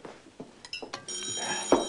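A telephone rings in a German detective TV series scene, its steady electric bell tone starting after a few soft knocks and clunks and carrying on to the end, fairly close and clear.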